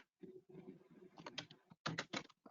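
Keystrokes on a computer keyboard while entering an array object in code, a near, steady patter of clicks in short bursts with brief pauses, ending in a quick flurry of louder taps.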